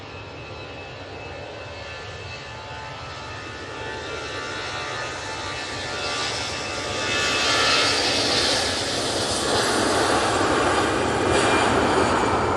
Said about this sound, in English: And that Easyjet is off to Krakow